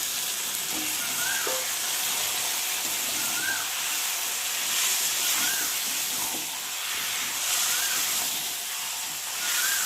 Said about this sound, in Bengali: দেখো এখন মাছটাকে ঢেলে দিলাম।